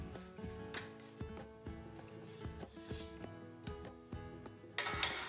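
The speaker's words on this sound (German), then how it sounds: "Eine Zehe Knoblauch wird erst flach gedrückt und dann fein gehackt." A knife finely chops a flattened garlic clove on a board, with close, irregular taps and short pauses between bursts, ending in a brief louder scrape.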